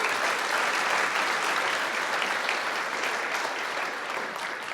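Sustained applause from an audience at a 2022 medical school honors convocation, greeting clinical excellence award recipients; dense, steady clapping that holds at full strength and only eases slightly near the end, with no talk over it.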